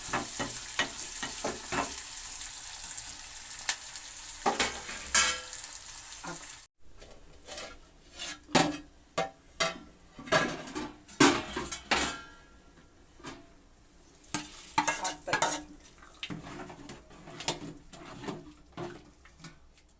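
Cooked rice stirred into a sizzling tempering in a pan on the stove for khara pongal: a steady frying hiss at first, then irregular scraping and stirring clatters of a spoon against the pan, close and fairly quiet.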